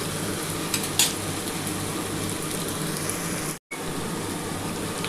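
Potatoes and onions fry in a pan, giving a steady close sizzle with a few light stirring scrapes and a brief cut-out partway through.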